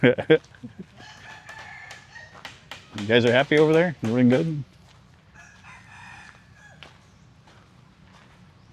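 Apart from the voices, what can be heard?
chickens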